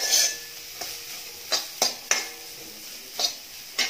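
Vegetables being stir-fried in a pan for egg fried rice, with a utensil scraping and clinking against the pan in irregular sharp strokes over a faint sizzle, close and moderately loud, with no talking.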